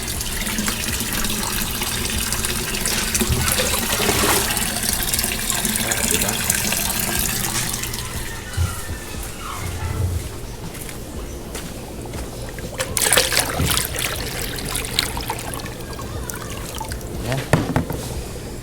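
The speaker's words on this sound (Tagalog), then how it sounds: "dagdagan natin ng tubig" Water pours and splashes into a guppy tank during a water top-up, a steady rushing and trickling that fills the first half, then continues more softly with scattered splashes and a few clunks, with no talk over it.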